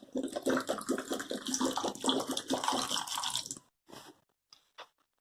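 Sago pearls being rinsed by hand in a bowl of water, with steady sloshing and swishing for several seconds, then a few brief splashes and drips, close up with no talk.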